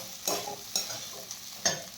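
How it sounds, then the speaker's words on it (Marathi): Sabudana and fried potatoes being sautéed in a pan for sabudana khichdi, with three or four distinct spoon scrapes over a soft sizzle; close and fairly quiet, with no voices. "शाबू थोडा परतून घ्यायचा आहे"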